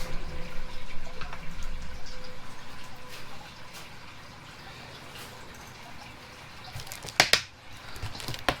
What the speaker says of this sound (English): turn a little bit of water on and fill my jug up